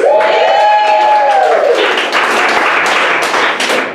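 Loud crowd applause and cheering from a comedy show audience, dense clapping that swells and carries on steadily through the whole stretch, with a few whoops over it.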